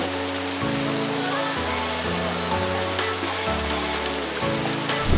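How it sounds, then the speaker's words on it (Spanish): Rain falls steadily during a boat ride on open water in Jauja, Peru, making an even, dense hiss with music playing quietly underneath. "Justo subimos y ha empezado a llover."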